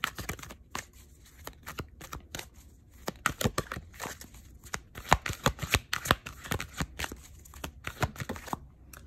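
Tarot cards being shuffled by hand, a quick close run of papery flicks and riffles in uneven bursts, fairly quiet and continuing for several seconds without talk.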